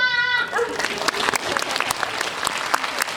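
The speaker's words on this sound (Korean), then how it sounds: "지금 뮤지컬 보고 오신 분들 해내셨다라고 생각하시면 박수 한번" A cinema audience at a film screening and talk event claps together, steady and dense. A sustained round of applause fills the room with a brief voice at the start.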